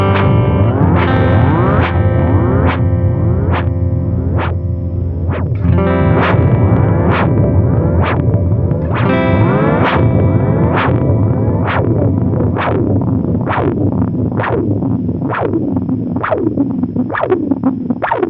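A DMB Lunar Echo pedal set to its wrecked modes, all controls turned fully up, churns out guitar notes smeared into warbling, pitch-swooping repeats with dense distorted echo trails, loud and continuous with no voices.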